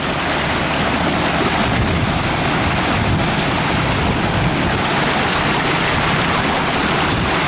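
Flood water surging against a road bridge on Route 11, a loud, steady, broadband roar of rushing torrent that fills the whole clip without letup, with no voices.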